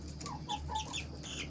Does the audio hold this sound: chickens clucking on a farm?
yes